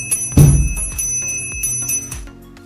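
A bicycle bell rings repeatedly inside a bike repair shop, a loud opening ding followed by a rhythmic series of bright metallic rings that trail off.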